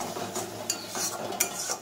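Spice masala for a prawn bhuna fries in a pan with a soft sizzle while a utensil stirs and scrapes, giving a few faint clinks against the pot, close but quiet and with no voices.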